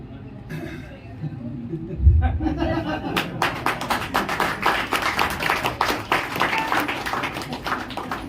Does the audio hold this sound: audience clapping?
yes